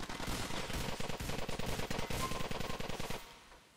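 Rapid automatic gunfire from a GTA IV Episodes from Liberty City multiplayer match, a loud rattling burst of evenly spaced shots lasting about three seconds before cutting off.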